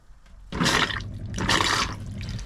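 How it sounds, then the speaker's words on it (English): A motorhome toilet on the cold water system flushes while air is purged from the lines, a close rushing, sputtering gush of water in two surges with no talking. "on the cold water system, just doing the toilet, because obviously that's got"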